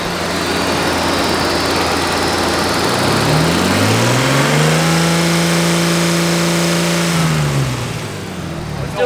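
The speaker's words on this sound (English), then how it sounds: "Smoothest running engine you get." Nissan RB30E inline-six engine in a Nissan Skyline running, a loud, close and steady idle that rises in pitch into a smooth rev around the middle, holds it and then settles back down.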